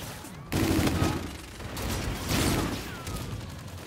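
Sniper rifle fire in Call of Duty: Infinite Warfare comes as several loud bursts of shots with mechanical clatter, rising and falling across a few seconds of combat.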